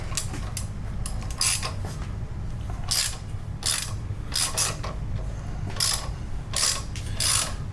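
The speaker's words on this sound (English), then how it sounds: "Just taking off our stock motor mount to get ready to put our Freestyle motor mount in" A ratchet wrench loosens a stock motor mount on a jacked-up engine, fast bursts of sharp clicking that repeat in quick irregular runs over a low steady background hum.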